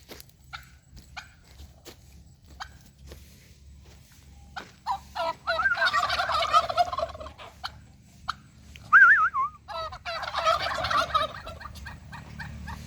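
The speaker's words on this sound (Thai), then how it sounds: "เดี๋ยวผมจะพาไปดูไก่งวง" American Bronze turkeys on a farm burst into two loud rattling gobble choruses separated by a short pause, over quiet background clicks and a low hum.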